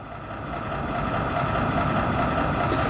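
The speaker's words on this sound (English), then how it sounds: "It's got a little running engine." A small 1/16 scale RC kei pickup truck toy plays a simulated engine running sound, a steady electronic idle rumble that swells slightly and holds, close and fairly loud.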